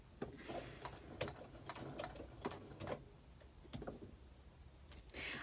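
Sewing machine stitching small fabric pieces, running in short bursts of rapid mechanical clatter with brief pauses between runs, fairly quiet and close with no talking.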